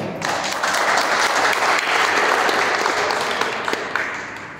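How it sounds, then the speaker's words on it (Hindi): Audience applause greets a poem reading at a wheelchair sports event, a dense, loud wash of clapping that holds steady for several seconds before easing slightly. "मुझे उम्मीद है कि आप एक बार मेरा सुनने से पहले तालियों से स्वागत करेंगे"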